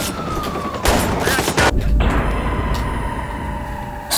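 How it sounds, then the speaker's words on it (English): Police gunfire in the open-world game Watch Dogs: several loud, rapid shots burst out close together, with a police siren wailing behind them and steady game ambience continuing afterward. "Oh my God, they're shooting!"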